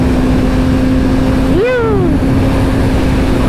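Suzuki GSR motorcycle engine on a ride, a steady drone with strong wind rush, rising briefly in pitch as it revs then settling back to a constant hum, close and loud throughout.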